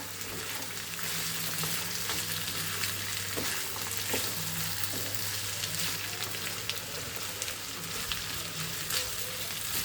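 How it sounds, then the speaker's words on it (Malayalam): Green chilies, curry leaves, garlic and ginger sauté in oil for a garlic pickle, making a soft, continuous sizzle with occasional stirring sounds. "ഇതെല്ലാതും കൂടി വാട്ടി എടുക്കാം."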